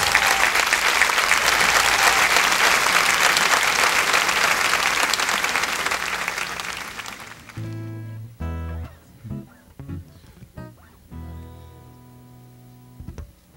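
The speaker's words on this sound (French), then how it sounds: "Prière d'applaudir mais chaudement." A concert audience applauds warmly for a singer, a dense sustained roar of clapping that cuts off sharply and gives way to music.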